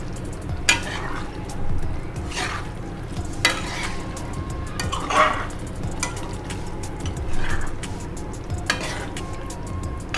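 Eggs are stirred through thick gravy in a pan for egg pirattal over a steady frying sizzle, with a spoon scraping and clinking against the metal pan every second or two, close up and moderately loud, no one talking.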